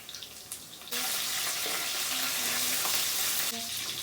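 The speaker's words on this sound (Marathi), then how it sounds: "बारीक करून घेतलेला लसण यामध्ये टाकून घेऊ लसण छान परतून घेऊ" Finely chopped garlic goes into oil where cumin and mustard seeds are already spluttering, and the sizzle jumps to a loud, dense hiss with faint stirring under it.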